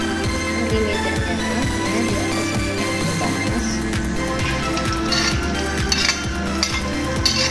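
Chili peppers, curly red and large red, frying in oil inside a rice cooker pot, a steady close sizzle with stirring and utensil scrapes throughout, no talk.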